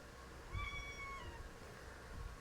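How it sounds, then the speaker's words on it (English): A cat meowing in a room, one clear drawn-out meow at moderate distance over quiet room tone, with no speech. "My cat is in my room."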